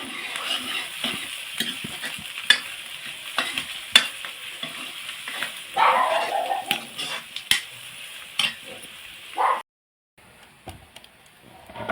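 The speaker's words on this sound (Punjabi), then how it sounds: "ਸਾਦੇ ਜੇ ਤਰੀਕੇ ਨਾਲ ਇਹਨੂੰ ਤੜਕਾ ਲਾ ਲਾਂਗੇ" Onions, green chillies and tomatoes fry as a tadka for saag, giving a close, continuous hot-oil sizzle broken by stirring scrapes for about ten seconds before it cuts off abruptly.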